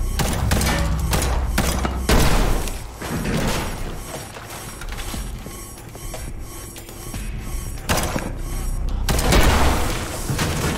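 Handgun gunfire in the Liberated DLC shooter on PC: repeated sharp bursts of shots and booming impacts in clusters, loud and close, with quieter gaps between volleys.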